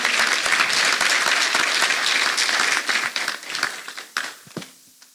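A church congregation claps hands for Jesus, dense, loud applause holding steady before thinning into scattered final claps and fading out.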